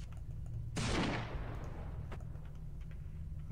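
A single zoomed-in gunshot from the video game Murder Miners cracks sharply and trails off in a short decaying rumble, followed by a faint click, over a steady low background hum.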